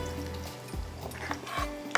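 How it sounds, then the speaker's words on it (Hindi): Onions sizzle steadily in hot oil in a pan, close and continuous, with a few stirring scrapes and clinks. "प्याज को रखते हैं हम यहाँ पर ब्राउन करने के लिए"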